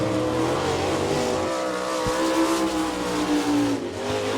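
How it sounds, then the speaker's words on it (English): Sprint car number 20 on a qualifying lap at Attica, Ohio, in an All Star Circuit of Champions race: a loud, steady engine roar with rising and falling harmonics that carries through the whole stretch, with no talk. "Brian Ellenberger qualifying right now in car number 20 from Butler, Pennsylvania."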